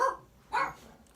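Two quick, close barks from a schnauzer mix puppy, about half a second apart, with a hush between them and no voices.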